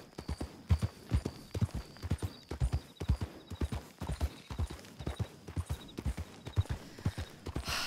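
Horse hooves clop steadily in a quick rhythmic gait during a long ride in Red Dead Redemption 2, close and clear, with a faint whinny in the background.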